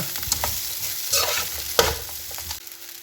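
A spoon stirs onion rice with fresh coriander in a frying pan, giving several scraping strokes and clinks over a gentle sizzle, close and clear with no talking.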